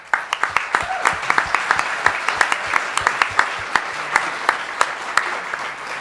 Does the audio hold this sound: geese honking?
no